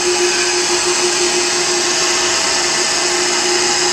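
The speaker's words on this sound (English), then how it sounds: "Turn the machine on" A marble polishing machine runs steadily on stone with polishing compound, a loud, unbroken motor whine with a constant hum and no talk.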